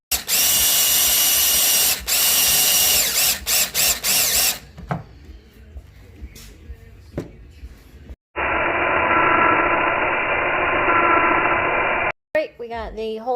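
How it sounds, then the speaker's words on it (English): A power drill bores holes in a Mustang for racing harnesses, running loud and steady in long bursts with whine changes, separated by quieter handling noises and pauses. "We got the holes drilled"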